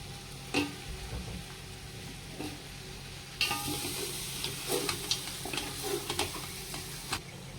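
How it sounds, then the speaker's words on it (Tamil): Chicken pieces dropped into a hot pan of spices for a country-chicken biryani hiss and crackle steadily, with a louder sizzle burst midway and repeated scraping clinks of a spoon stirring through the mixture. "இப்போ சிக்கன் போடுறேன்"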